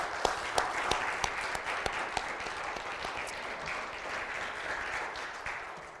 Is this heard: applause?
yes